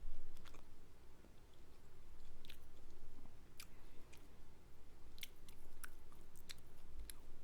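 Wet chewing and biting of Korean street food close to the mic, soft squishy mouth sounds with occasional sharper crunchy clicks scattered throughout, no talking.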